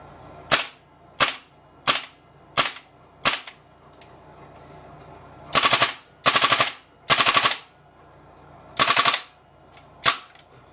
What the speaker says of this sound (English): I'm going to hold the bolt catch down because it's dry firing